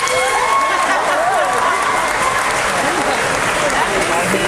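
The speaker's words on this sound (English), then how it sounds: "Clap if you were born after then." Convention audience clapping at a panel talk, a loud, continuous wash of applause from a large crowd with scattered voices and cheers beneath it.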